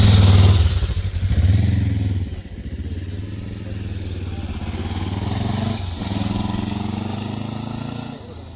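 A motorcycle brakes hard during safe-riding training, its engine note dropping and surging with a clatter at the stop; it sounds loud and close, with someone talking over the engine.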